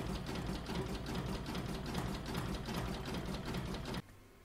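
An embroidery sewing machine stitches a mug rug design in green thread with a steady, rhythmic, fast-pulsing stitch. It runs alone for about four seconds, then cuts off to a low hum.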